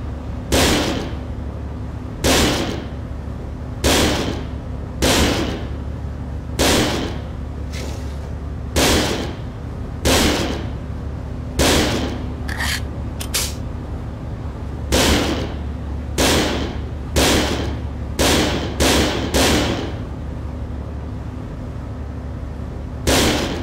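Gunshots at a shooting range in the video game Second Sight, about twenty sharp, loud reports fired at irregular intervals, some in quick pairs and bursts, over a steady low hum.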